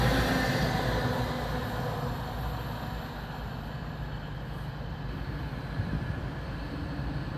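A historic steam excursion train runs past Loughborough Station as a steady low rumble and rolling rail noise, moderately loud and continuous, with no voices.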